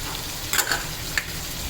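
Spices frying in a pan for chicken pulao, a steady low sizzle with a few soft stirring scrapes of a spoon.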